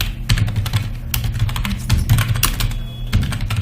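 Rapid clicking keystrokes on a computer keyboard, typed close to the microphone in quick uneven bursts over a low steady hum, with no speech.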